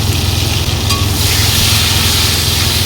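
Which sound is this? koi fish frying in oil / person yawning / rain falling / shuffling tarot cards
koi fish frying in oil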